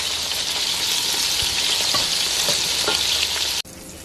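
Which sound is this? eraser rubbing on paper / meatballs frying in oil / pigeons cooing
meatballs frying in oil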